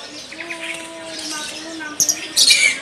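Small birds at a bird market chirp and tweet in thin, high whistling calls, with a couple of sharper squawks near the end, under faint background talk.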